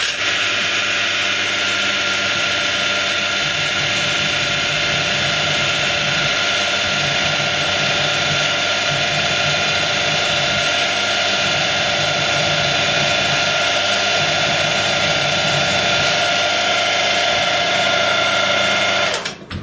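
A 7mm drill bit spinning at 1600 RPM on a drill press, boring steady and loud through a chassis part for a MIDI CNC router, with a constant whine that cuts off at the end.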